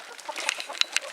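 Chickens cluck in short, scattered bursts close by, a few sharper squawks among soft chatter, no talking.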